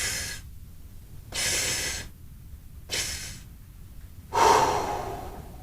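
Three sharp inhalations through the mouth as if sipping through a straw, each a short breathy rush separated by pauses, followed after a held breath by a longer, stronger exhale, close and clear without speech.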